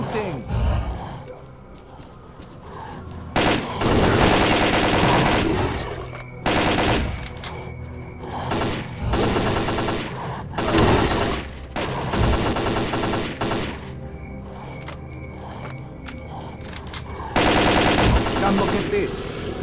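Gunfire in the game S.T.A.L.K.E.R.: Call of Pripyat, with loud bursts of automatic weapon fire arriving in repeated clusters along with grunts and strained vocal sounds, under a dense game soundtrack.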